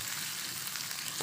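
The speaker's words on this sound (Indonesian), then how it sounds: "Kita tumis-tumis sampai harum" Shallots, garlic, galangal, chili and bay leaves sautéing in hot oil in a frying pan, a steady close-up sizzle that stays even throughout, with no talk.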